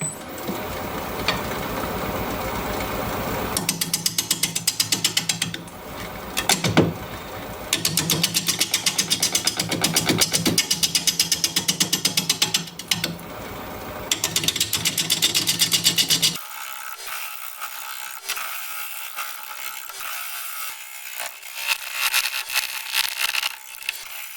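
A 5/8 inch bowl gouge cutting apricot wood on a lathe spinning at 480 RPM, giving loud continuous bumpy chatter in long stretches with brief pauses, then the motor hums on alone.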